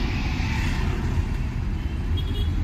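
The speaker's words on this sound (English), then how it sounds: "Currently, we are inside the car right now" Inside a moving car, a steady low engine and road rumble fills the cabin, with a constant broadband roar and no talk.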